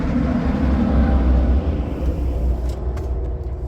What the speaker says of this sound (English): We thought, oh, it's a lovely quiet spot here until these tractors start going up and down.